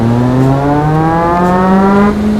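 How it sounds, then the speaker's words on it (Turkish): A synthetic semi-truck engine in Euro Truck Simulator 2 drones and revs steadily upward in pitch, loud and continuous, like a game vehicle accelerating. "Bas bakayım bas egzoz dinlet bize bas."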